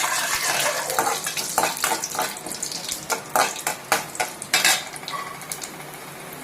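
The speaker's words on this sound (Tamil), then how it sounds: "கடுகு நல்லா பொரிஞ்சிருச்சு" Mustard seeds and chana dal spluttering in hot oil, sharp irregular pops and crackles over a hissing sizzle, with occasional utensil clinks, close and fairly loud.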